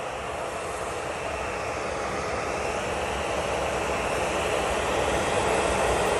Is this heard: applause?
no